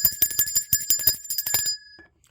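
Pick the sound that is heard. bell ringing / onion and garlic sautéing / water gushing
bell ringing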